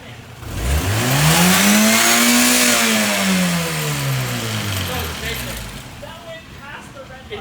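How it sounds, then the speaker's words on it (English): A car engine running on vape juice in place of engine oil revs up in neutral, its pitch climbing to a loud peak and then sinking slowly, with background noise and talk underneath. "Put it in neutral, rev it a bit."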